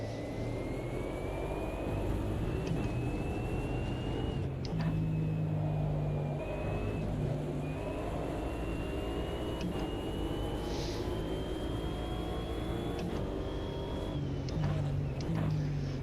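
Race car engines in the sim racing game AMS 2 drone and rise steadily in pitch as a car accelerates, with brief drops at gear shifts, loud and continuous from the cockpit.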